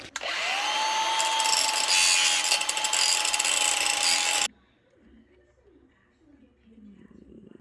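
A cut-off wheel grinder slices through metal during an overdrive swap on a Dodge Ramcharger, a loud steady high-pitched whine with gritty cutting noise for several seconds, then stopping abruptly, followed by quiet shop sounds and a voice.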